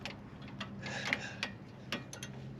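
A ratchet with an extension and an 18 mm socket turns a large bolt under a 1992 Jeep Cherokee XJ, giving a series of light, irregular clicks and ticks, close but quiet.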